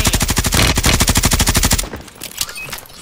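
Automatic gunfire in Call of Duty Modern Warfare: a rapid, loud, evenly spaced burst of shots lasting about two seconds, close up, then cutting off to quieter game noise.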